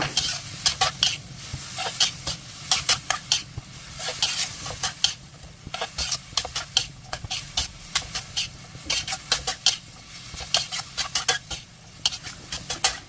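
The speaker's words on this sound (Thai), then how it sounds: "ต่อไปก็ผัดต่อค่ะ เราจะผัดให้ส่วนผสมเข้ากันแล้วก็ ให้ดอกไม้กวาดสุกค่ะ" Broom flowers and pork liver are stir-fried in a pan, with a steady sizzle under rapid, repeated scraping and clinking of a spatula against the metal, close and continuous, with no talking.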